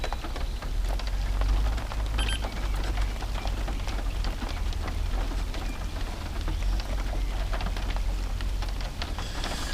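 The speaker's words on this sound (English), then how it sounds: "Camera's changed because it's raining." Rain falls outdoors in a steady, dense hiss of drops with a low rumble beneath, continuous and fairly loud throughout, and no voices.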